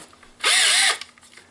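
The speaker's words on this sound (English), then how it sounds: "I drilled a hole with my trusty drill." An electric drill bores a hole with an 11/64 bit for an LED strip light wire, a single loud whirring burst of about half a second with a rising and falling motor pitch, alone.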